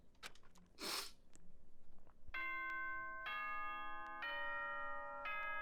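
The Danganronpa video game school announcement chime rings out, a multi-note bell jingle in clear sustained tones after a few quiet clicks and a brief hiss, heard alone.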